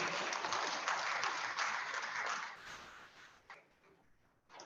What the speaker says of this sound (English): a big round of applause for your working group members